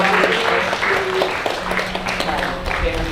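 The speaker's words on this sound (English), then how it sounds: "Give Kumu a round of applause." An audience at a hula mele workshop breaks into short, moderately loud applause, while a voice keeps talking over the clapping the whole time.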